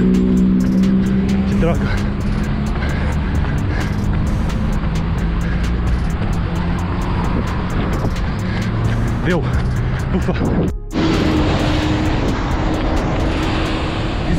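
A city bus rumbles past close by on a Curitiba street, its low engine drone filling the scene as a runner on a 10 km run dodges it, with a brief quieter gap before the traffic noise swells again; the runner speaks briefly over it.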